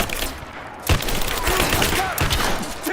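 Rapid gunfire bursts crackle loudly in the video game Rise of the Tomb Raider, mixed with battle noise and shouted voices.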